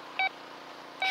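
Two short two-tone electronic beeps from a Quest Q20 metal detector, one near the start and a louder one at the end, over a steady low hum outdoors.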